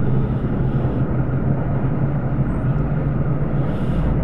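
An F-16 fighter jet flies at supersonic speed in the ArmA3 game, giving a loud, continuous engine roar and rushing air that holds steady throughout, with no voices.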